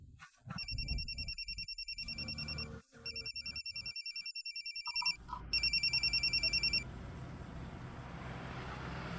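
A telephone rings in repeated electronic bursts, loud and close, in three long runs broken by short pauses, with faint background noise and no talk.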